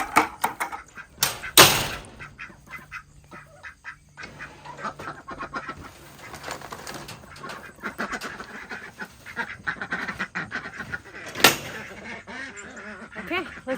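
Ducks quack repeatedly nearby, a busy chorus of nasal calls mixed with splashing and occasional bumps.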